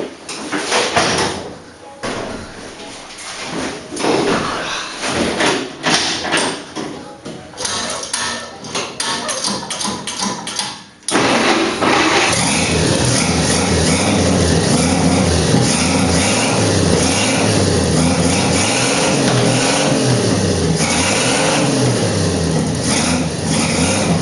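A Dodge Slant Six engine cranks in uneven bursts for several seconds, then catches and settles into a loud, steady idle that runs close and continuous to the end.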